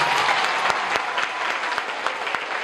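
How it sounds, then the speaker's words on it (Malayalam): A hall of students claps together at the 42nd college day of Aryabhatta college, a sustained dense round of applause with sharper individual claps standing out and a faint murmur of the crowd underneath. "കുട്ടികളെല്ലാവരും ചേർന്ന് ആദ്യം തന്നെ കൈ പൊക്കിയിട്ടൊരു കൈയടി തരുമോ?"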